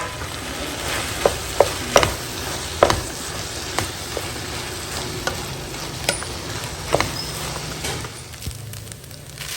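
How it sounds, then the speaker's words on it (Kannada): Cooked rice being stirred into a spiced, simmering tamarind-style mixture of roasted ground fenugreek in a pan, with steady sizzling and frying under a soft scraping of the spoon and a few sharp clicks against the pan, no talk. "ಅನ್ನನ ಮಿಕ್ಸ್ ಮಾಡ್ಕೊಳ್ಳೋಣ."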